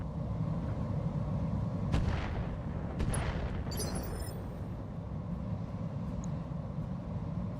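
Heavy weapon fire from a mech battle in the RogueTech video game: a few sharp cracks and booming shots around the second and third seconds, then a rumbling tail fading into a steady low background.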